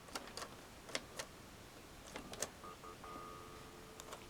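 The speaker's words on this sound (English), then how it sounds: "that was confirmation tone and then dial tone" Office phone system tones while setting up a conference call from an idle line, with a short confirmation tone followed by a steady dial tone, faint beneath scattered clicks and keypresses.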